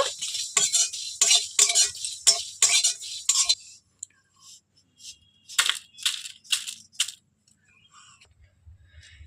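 Potato curry is stirred after two spoonfuls of kasuri methi (dried fenugreek) go in: a quick run of close metallic spoon scrapes and clinks, thinning to scattered strokes, then near silence.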